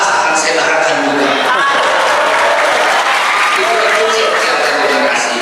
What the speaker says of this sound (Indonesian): Bagus saja kali ini melihat di masjid ada tepuk tangan